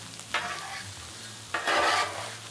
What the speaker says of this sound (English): Now I'm just going to take my spatulas and I'm just going to mix it all in.